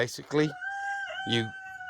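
Chickens and roosters cluck and squawk in short bursts with a high crowing tone between them, close by and clear, on a farm just before butchering.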